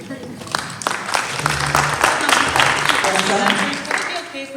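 Clapping from a debate audience, a dense patter of many hands with a voice speaking over it, moderately loud throughout.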